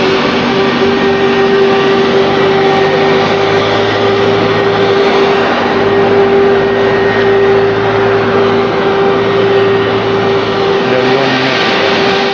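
An ATR turboprop aircraft's engines drone loudly and steadily, with a constant humming tone over broad rushing noise. The sound holds unbroken throughout, with no speech.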